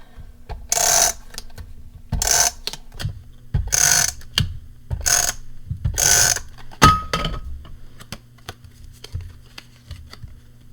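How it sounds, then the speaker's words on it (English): Tape runner laying adhesive tape onto card during a stamped flower card project, heard as five short rasping ratchety bursts at a steady rhythm, close and moderately loud, followed by faint handling clicks. "So I'm just going to use my tape runner again"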